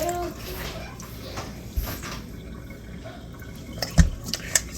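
Afang soup ingredients being washed in water, with soft splashing, trickling and dripping close by, a few sharper splashes near the end, and a person talking over it.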